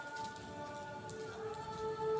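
Heavy rain pours steadily outside Baclaran Church in Parañaque, a dense continuous hiss of drops striking surfaces with no voices.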